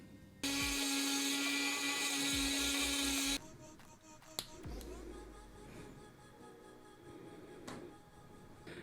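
A Dremel rotary tool grinds loudly with a steady high-pitched whine for about three seconds, then stops, leaving quieter workshop clatter and faint background noise.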